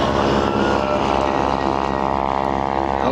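A propeller airplane flying a wingwalking show at the Flying Circus in Bealton, Virginia, gives a loud, steady engine-and-prop drone that holds for the whole stretch.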